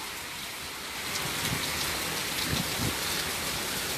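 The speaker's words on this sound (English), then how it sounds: "Oh, it's raining hard," Heavy rain pours steadily in a dense wash, building louder after the first second, with scattered close drips and patters striking a surface.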